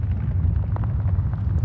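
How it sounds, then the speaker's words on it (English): A library recording of rocks in motion gives a deep, continuous earthquake-like rumble, dense and heavy in the low end, with faint crackles over it. "The fourth sound is from a library of rumble rocks in motion."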